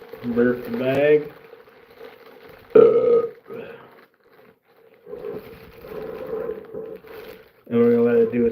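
Air squeezed out of a plastic bag of curing fishing bait makes several short gurgling, burping bursts at close range, with someone talking between them.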